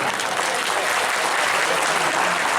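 An audience at a Sri Ram Katha religious discourse in Bhagalpur, Bihar breaks into dense, steady applause that fills the whole moment evenly without pause.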